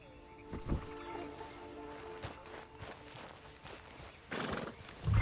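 Horse in a Western video game whinnying once near the start, followed by scattered hoofbeats and clip-clops at a moderate distance, with quiet ambient background throughout.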